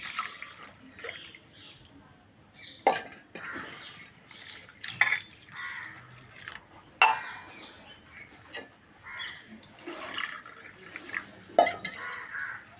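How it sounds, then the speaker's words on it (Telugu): Hot water, two and a half glasses, poured into roasted semolina in a pan while making rava kesari; close, uneven splashing and bubbling in short bursts. "2 గ్లాసులన్నర వాటర్ పోస్తాను"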